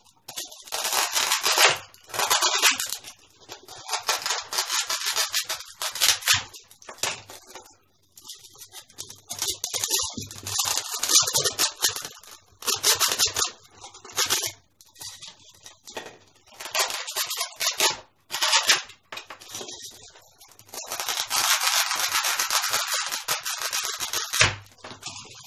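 Scissors or shears snip and rub through flower stems in bursts while building a spring umbrella floral arrangement, scratchy cuts and rustling coming close and fairly loud with short pauses between.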